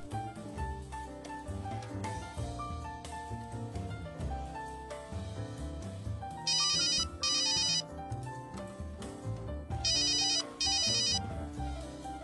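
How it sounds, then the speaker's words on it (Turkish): A telephone ringtone sound effect trills in two short double bursts, loud and electronic, laid over continuous background music. "Zamanla Muharrem Bey'in telefonu daha sık çalmaya başlar"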